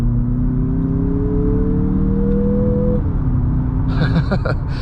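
A 2023 Mazda CX-50 Meridian Edition accelerates on the road, its engine droning steadily with a rising tone that drops as a gear shifts. Brief faint rattles come near the end.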